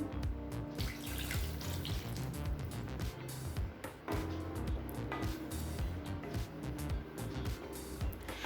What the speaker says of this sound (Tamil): இப்போ இது கூடவே 1 கப் தண்ணி சேர்த்துக்கலாம்.